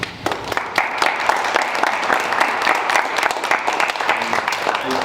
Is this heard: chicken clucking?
no